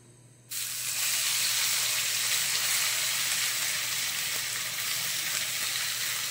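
Spice paste hits hot oil for Bengali aloo anguri curry after cardamom tempering, bursting into a loud, steady sizzle that holds close and continuous after a quiet opening half-second.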